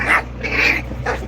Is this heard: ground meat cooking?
no